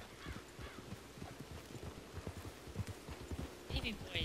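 Horse trotting in Red Dead Redemption 2 Online, with rhythmic clip-clop hoofbeats running steadily throughout, a brief whinny near the end, and people talking over the game sounds.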